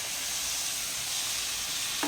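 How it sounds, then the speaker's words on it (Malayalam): Mutton goes into fried masala and sizzles steadily up close, a soft continuous hiss with a brief clink of a utensil at the end. "ഞാൻ മട്ടൻ അതിലേക്ക് ചേർക്കാണ്."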